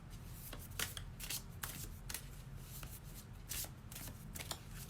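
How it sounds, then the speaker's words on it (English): Playing cards being shuffled, a series of crisp riffling bursts repeating at a quick, uneven pace, close up. "I think that's enough shuffling."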